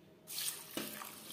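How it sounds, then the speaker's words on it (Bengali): Running tap water, as when rinsing dal lentils clean in a kitchen sink, starts abruptly and pours steadily with a brief splash shift partway through, fairly close. "ডাল আমি পরিষ্কার করে ধুয়ে নিয়েছি।"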